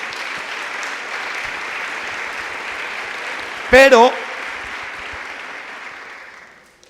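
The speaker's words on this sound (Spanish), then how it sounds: "¿Usted quiere darle un aplauso a las mujeres?" A church congregation applauds the women during a pastor's sermon, steady clapping for several seconds, broken by a short loud spoken interjection near the end before fading out.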